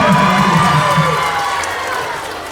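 A crowd of children cheers and shouts at a Grade 6 school graduation celebration, with some clapping mixed in; loud, close and busy voices that ease off slightly toward the end.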